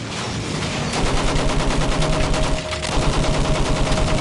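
Battlefield 1 battle gunfire, with dense rapid machine-gun bursts rattling almost continuously, loud and close, with a brief pause midway before the firing resumes.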